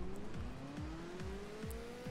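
A Ferrari F40's engine revs on launch in a video game, climbing through repeated gear shifts, pitch rising and dropping in a steady rhythm, loud and close with no talking.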